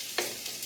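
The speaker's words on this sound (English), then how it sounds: "you can hear that nice sizzle as they go in" Vegetables dropped into a hot pan give a short, close burst of sizzling that quickly settles into a quieter frying hiss.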